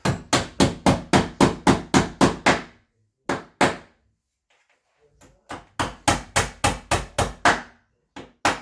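A hammer drives a nail into crown molding with quick bursts of sharp, ringing blows, a rapid run of about ten strikes, a pause with two single taps, then another rapid run and two final hits, close and clear.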